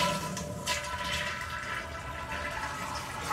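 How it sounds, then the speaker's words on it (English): A toilet flushed with its water supply shut off gives a steady, close rush of draining water for the whole stretch, with no refill hiss after it and no voices. "And I want to go ahead and flush it."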